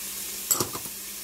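A spoon stirs browned ground beef seasoned with salt, pepper, garlic and onion in a pan, giving a few quick scraping strokes over a soft steady sizzle.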